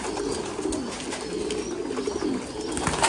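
Pigeons cooing at a pigeon farm, a steady layered chorus of low throaty coos that carries on without a break and stays fairly loud and close, with no voices.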